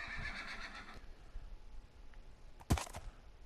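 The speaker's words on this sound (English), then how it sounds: "And this horse is pretty dang slow, by the way." A horse in Minecraft, the video game, lets out a short, loud neigh near the end, with quiet game ambience and soft sounds before it.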